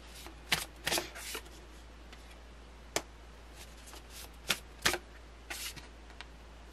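Tarot cards are shuffled and laid out on a surface, producing soft close riffling bursts and crisp card slaps at irregular intervals over a quiet low hum.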